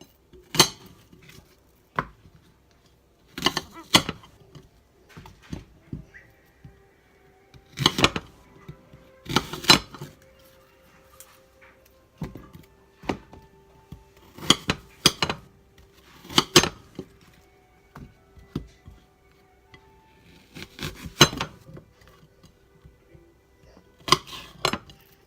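A knife slicing fruit on a cutting board to feed rabbits, with irregular clusters of crisp chopping taps and knocks separated by quiet pauses, close by.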